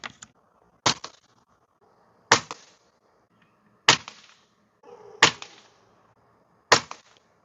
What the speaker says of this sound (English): we're going to start out with the pointed, and we're going to be doing 5 pumps each